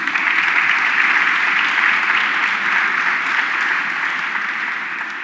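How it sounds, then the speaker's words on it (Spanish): Sustained loud audience applause fills a congress hall on Islamophobia, dense steady clapping throughout that eases slightly toward the end. "quiero que recibamos ya con un caluroso aplauso a Alba Leiva y Mohamed El Moudem."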